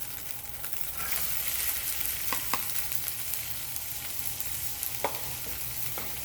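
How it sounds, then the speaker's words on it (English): Vegetables sauteing in a preheated pan for a tomato sauce, a steady low sizzle throughout with a few faint clicks and stirring taps, close and even with no talking. "we'll go ahead and saute these, get them nicely coated"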